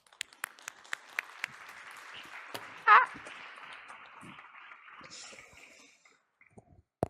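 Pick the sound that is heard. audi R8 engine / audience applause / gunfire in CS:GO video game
audience applause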